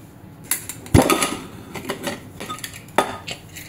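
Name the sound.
opening the pressure cooker lid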